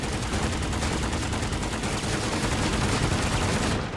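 Sustained machine-gun fire in the shooter game Planetside 2, an unbroken, loud stream of rapid rounds for several seconds, close and dominating the scene.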